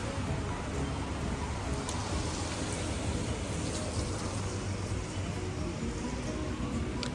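Steady, dense hiss of rain falling continuously, even in loudness throughout, with no voices.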